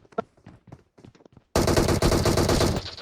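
Gunfire in the mobile battle royale game PUBG Mobile: a few soft clicks, then a sudden loud sustained burst of rapid automatic shots lasting over a second, close and dense.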